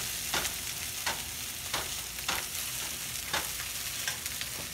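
Fried rice being stir-fried at home with green onion tossed in at the end, a steady sizzle broken by rhythmic scraping strokes of a spatula roughly every half second.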